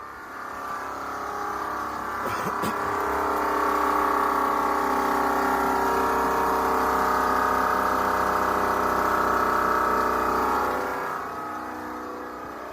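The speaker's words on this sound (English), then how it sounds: "This button turns the compressor on. And you can see I put it on. The compressor now comes on." A train horn air compressor in a Ford F150 runs with a steady, loud droning hum that swells up after a brief rattle, holds evenly, then fades near the end, with no talking.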